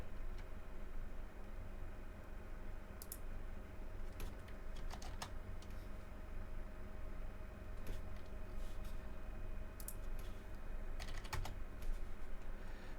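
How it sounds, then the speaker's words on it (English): Quiet clicking of computer keyboard keys in short scattered bursts, with pauses between, close but soft over a faint steady hum. "Oh, type it on Figma."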